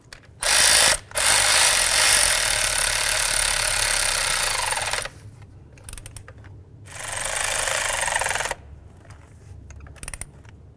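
A power driver or ratchet tightens ignition coil bolts on a 2006-2010 Dodge Charger engine in three close, buzzing bursts of a few seconds each, separated by quiet pauses with light mechanical clicks.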